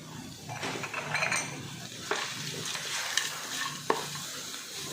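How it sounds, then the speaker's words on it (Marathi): Cardamom and nutmeg powder stirred into paan karanji filling as it sautés in a pan, with steady sizzling broken by a few sharp scrapes and clinks of the spoon against the metal. "चांगलं परतायचं आहे"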